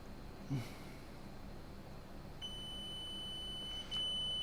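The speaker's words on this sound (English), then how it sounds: "If I put them probes on it, it might beep." Multimeter probes on a MacBook A1990 logic board during a continuity test give a thin, steady electronic beep. The beep starts partway through and holds over a quiet room hum, with a faint click or two.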